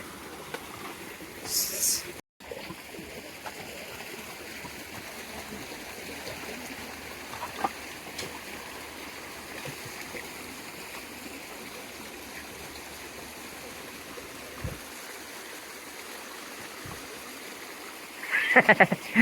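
Water for rice fields rushes steadily through a channel in a constant broad hiss, with brief voices and a few clatters near the start and end.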